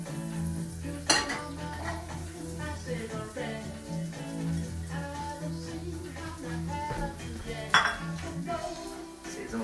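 Sliced shallots and garlic cook in butter in a pan, a low steady sizzle under clinking utensils and pan scrapes, with two sharper metallic clanks.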